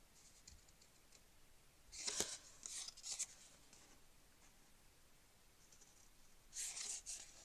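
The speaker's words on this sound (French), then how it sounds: "Là je le fais au ciseau parce que c'est plus rapide" Scissors snip through ribbon while ribbon is being organised for scrapbook storage; a few quick, crisp cutting bursts stand out against a quiet room, with one cluster early on and another near the end.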